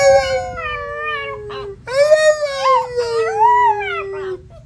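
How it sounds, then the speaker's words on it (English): A pet wolf howls in long, sustained, wavering tones that rise and fall, two drawn-out howls with a brief break between, close and loud with no other sounds. "wolves don't bark, they howl"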